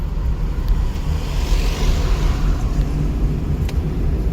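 Car in motion during a driving lesson, its engine steadily pulling in gear under a constant, close rumble of road and wind noise, with no voices.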